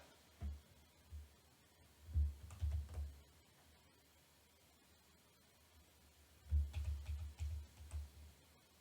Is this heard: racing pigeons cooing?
no